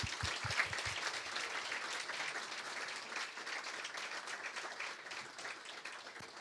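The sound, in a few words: audience applause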